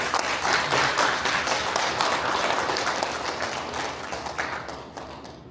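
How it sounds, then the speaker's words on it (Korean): An audience at a Korean Buddhist symposium applauds to welcome a monk to the podium, a sustained crowd of clapping hands that slowly thins and fades over about five seconds. "여러분 박수 부탁드리겠습니다"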